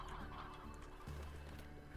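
Chicks in a Slime Rancher coop cluck and chirp amid steady synthetic game ambience, with low droning tones and scattered soft bird calls throughout.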